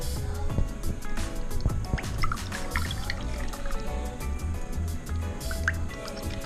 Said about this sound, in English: Okay, time to pour.